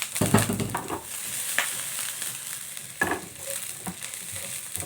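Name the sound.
sautéing onion and garlic in a pan for fried rice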